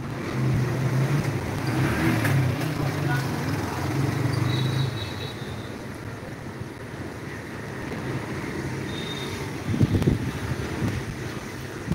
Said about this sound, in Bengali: আমাদের এখানে হলো ব্যস্ত রাস্তা, সারা দিন রাত গাড়ি চলছে